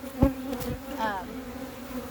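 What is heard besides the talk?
honey bees buzzing during a hive inspection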